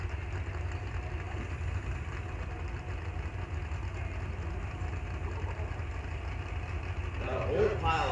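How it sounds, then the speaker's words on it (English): A restored tractor at a tractor-pull motor event rumbles at a steady low idle, continuous and fairly close, with crowd and arena noise mixed in. "Good looking restored tractor."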